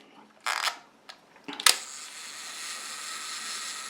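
A Yashica FX-3 2000 Super film camera is handled close up: a few sharp mechanical clicks from the delayed-action lever, then a snap as the mirror flips up, followed by a faint lingering hiss.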